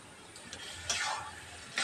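A tamarind pickle mixture with salt and sugar is stirred in a pan, giving soft scraping swishes in a few short, close strokes.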